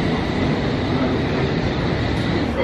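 A fast London Underground train roars past up close, a loud continuous rush of wheels and rails filling the whole clip.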